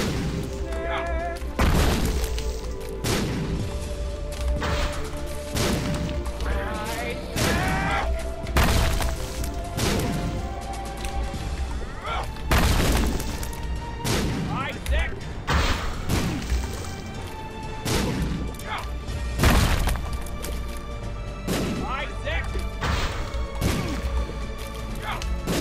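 Repeated bomb blasts from The Binding of Isaac, short booming thuds and crashes hitting every second or so over a steady bed of game music, loud and close throughout.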